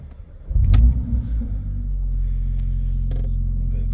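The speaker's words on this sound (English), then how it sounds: "So we'll jump in and get it started now." A 360 bhp Mercedes-Benz A45 AMG 4MATIC with a 2.0-litre engine starts up with a loud, close burst of starter and revving. It then settles into a steady, deep idle rumble that continues to the end.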